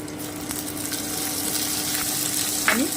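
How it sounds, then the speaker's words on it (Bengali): Steady sizzling of onion paste frying in hot oil, close and continuous, with a brief scrape of stirring near the end. "এবারে আমি পেঁয়াজের পেস্টটা দিয়ে দিচ্ছি"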